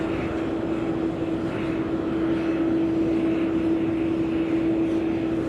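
DHL Boeing 767 cargo jet at East Midlands Airport during Christmas cargo operations, a loud continuous engine roar with a steady whine tone throughout, no speech.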